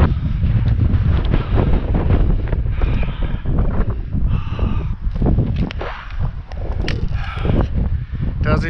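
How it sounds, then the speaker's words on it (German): Strong wind sweeps over a mountain trail on the Tyrolean high route near the Trübsee lake, roaring and buffeting the microphone with loud, continuous low rumbling and gusty swells throughout. "So, hier geht der Wind schon richtig ordentlich"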